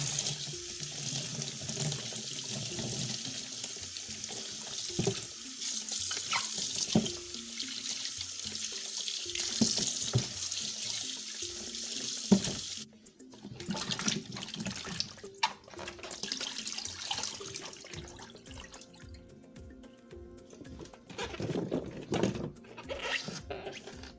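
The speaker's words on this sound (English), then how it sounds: "our cassava has been peeled and we're about to wash them." Peeled cassava roots being washed under running tap water in a basin for homemade West African gari, with steady splashing and flowing water, scraping and handling noises, and the tap cutting off partway through; no voices.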